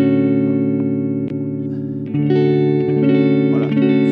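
Electric guitar through an ENGL 570 tube preamp with a light G-System reverb in the effects loop, sustained chords ringing cleanly with a soft tail, a new chord struck about halfway, no talking.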